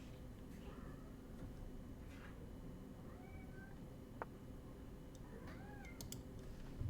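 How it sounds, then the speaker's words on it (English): A cat cries in the background with a few faint, plaintive meows spaced apart. Occasional clicks break a steady low hum, and the cries sound soft and somewhat distant. "Cat just crying in the background."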